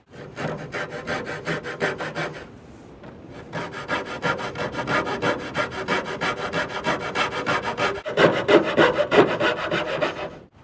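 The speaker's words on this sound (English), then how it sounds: "we're going to cut that edge off so it can lay right over our baseboard" Hand saw rasping back and forth through the edge of wooden baseboard trim while coping it, a steady close sawing stroke with a brief pause near the start and louder strokes toward the end.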